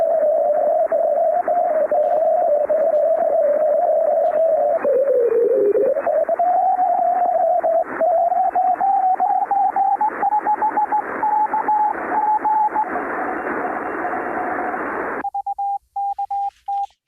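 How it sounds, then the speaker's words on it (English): Ham radio Morse sidetone whose steady carrier wobbles and bends in pitch from auroral effects, loud over hissy static, ending with a brief clean, pure tone after the noise cuts out. "So it's that sort of variability that we can see in our ham radio signals"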